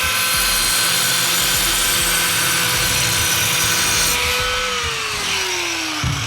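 A Ryobi angle grinder with a diamond blade cuts through porcelain tile, a loud, continuous high-pitched whine with gritty grinding that winds down in pitch as the blade spins to a stop.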